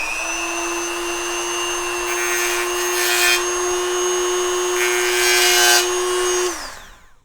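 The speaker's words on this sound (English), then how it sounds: "So you can do that with the Dremel, again, in this grinding attachment." A Dremel rotary tool with a grinding attachment whines steadily as it grinds the sharp corner of a notched metal straight edge for checking a guitar neck, with rising bursts of contact as it bears down, then spins down at the end.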